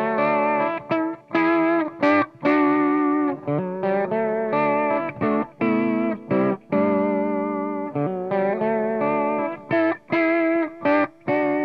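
Electric guitar strumming chords through a TC Electronic Shaker vibrato pedal set to a slower vibrato, giving a wavering, slightly edgy tone with short pauses between rhythmic strums, close and alone.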